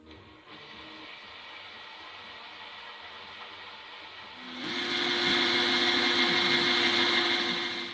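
A steady motorized whine runs throughout, then grows louder and higher as a 2.5 mm drill bites in halfway through on a Morso wood-burning stove, continuing close up with no talking.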